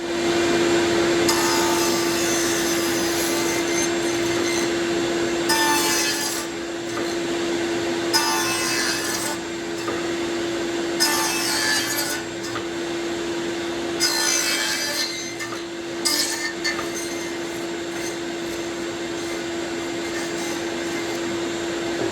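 A table saw fitted with a dado stack cuts wood for a chicken tractor build, with several loud cutting bursts rising over a steady motor whine, each separated by quieter idling.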